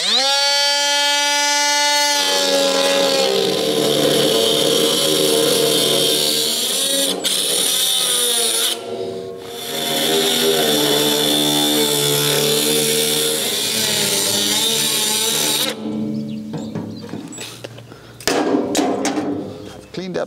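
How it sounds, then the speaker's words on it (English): An angle grinder with a very thin cutting wheel spins up with a rising whine, then screams steadily and loudly while slicing through a metal panel on a David Brown 990 tractor. It stops abruptly near the end, followed by a few scattered knocks and clatters. "I'm going to use a very thin cutting wheel."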